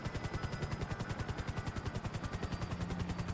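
Helicopter in GTA 5 Online, a steady rapid rotor thump with a whining engine tone, loud and continuous throughout with no talk.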